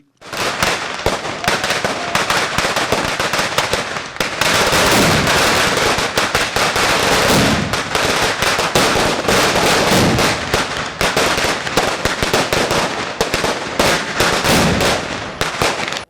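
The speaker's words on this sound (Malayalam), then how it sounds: "പടക്കം പൊട്ടിച്ചാണ് ആഹ്ലാദം പങ്കുവച്ചത്" A long, dense string of firecrackers bursting in rapid, crackling succession, loud and close, barely pausing for sixteen seconds, set off in celebration of exam results.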